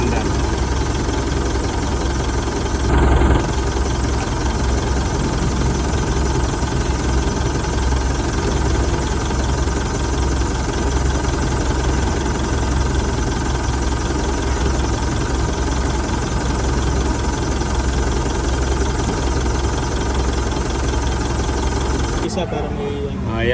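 A car engine runs at a steady idle throughout, loud and close, with a brief knock near the start and a shift in tone at the very end. The car is being serviced for an air-conditioning evaporator problem.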